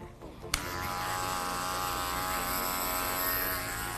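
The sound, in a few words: adjustable electric hair clipper buzzing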